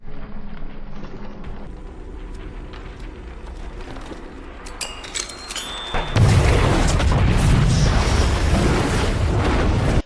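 A grenade goes off in the zombie film Army of the Dead: low rumbling and scattered clatter build up, then a loud, broadband blast erupts and roars on steadily to the end, with no talking.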